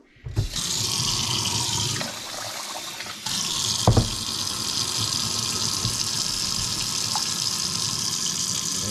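Tap water runs steadily into a container of rice being measured for cooking, a continuous close gushing with a few small knocks and splashes along the way.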